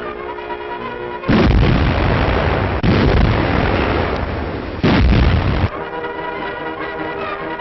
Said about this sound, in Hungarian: A tüzérség néhány jól irányzott lövéssel elveszi a bolsevisták vállalkozási kedvét.